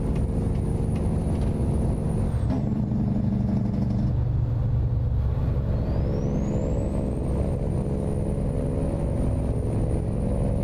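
A heavy Class 8 truck with an N14 engine in American Truck Simulator drones steadily and loudly, with a brief hiss like an air brake release partway through and a faint whine that rises and falls.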